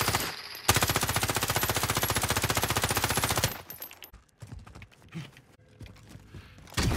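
Automatic weapon fire in Call of Duty: Modern Warfare rips out in one loud, sustained rapid burst lasting about three seconds, then trails off into scattered shots and softer combat noise before another loud burst starts right at the end.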